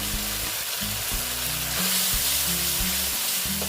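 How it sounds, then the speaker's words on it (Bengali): Cumin seeds fry in a pan with a splash of water on lowered heat for an ash gourd dish, giving a loud, dense, continuous sizzle with a low steady hum underneath. "জিরেটা ভেজে নিচ্ছি"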